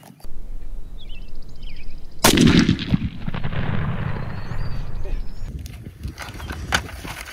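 A Retay shotgun fires a 3-inch 5-shot turkey load outdoors, one sharp, loud blast with a long rumbling echo rolling off across open ground.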